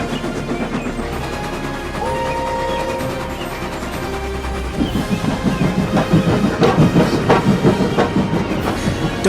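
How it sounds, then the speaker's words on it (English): A loud steam train rumbles past with a rising roar and rhythmic clatter, a tonal whistle-like note sounding early before the noise swells. "Whistled Gordon proudly, and with a swish and a roar he was gone."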